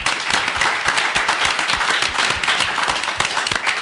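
A live audience at a hacker convention panel breaks into dense, steady applause, many hands clapping loudly and continuously with no voices over it.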